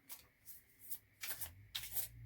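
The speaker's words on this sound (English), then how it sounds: "they shuffle like this" A thick tarot deck is shuffled by hand in several quick riffling bursts, crisp papery flutters spaced out with brief pauses, close and fairly quiet.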